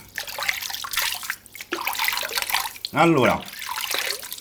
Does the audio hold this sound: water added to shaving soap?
yes